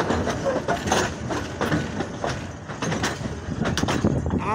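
Train engine drawing its coaches slowly through a railway wash pit at Parbatipur junction, a steady low rumble with clanks and scraping rail noise throughout, fairly close.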